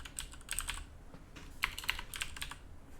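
Rapid bursts of keystrokes on a computer keyboard, close and fairly quiet, arriving in uneven clusters with short pauses between runs of typing.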